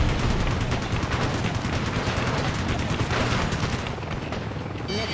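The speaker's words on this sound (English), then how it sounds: "Oh, the missile hit the building." Missile explosions strike a building in the combat flight game Ace Combat: Assault Horizon, a loud sustained barrage of booms and rattling blasts that fades slightly toward the end.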